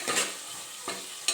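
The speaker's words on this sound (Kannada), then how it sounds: "ಸ್ವಲ್ಪ ಫ್ರೈ ಮಾಡ್ಕೊಳ್ಳೋಣ." Brief close frying in a pan for toor bean sambar: a soft sizzle with a couple of quick spoon scrapes and stirs, alone with no talk.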